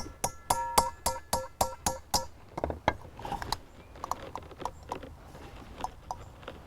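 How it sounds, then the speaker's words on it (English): Sharp metallic ticks from holes being punched in the top of a pan for a vertical container garden, a quick regular series of about nine close, loud strikes followed by scattered quieter knocks and scrapes. "I'm going to come up to the top of my pan, and I'm going to make a couple holes."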